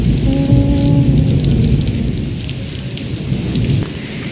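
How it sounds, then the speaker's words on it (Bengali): Heavy rain pours down in a loud, dense hiss while deep rolling thunder rumbles underneath, steady and close throughout. "বৃষ্টি দেখতে কার না ভালো লাগে"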